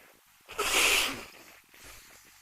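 A single sneeze from someone with a cold bursts out close by, a sharp hissing blast followed by quiet breathing.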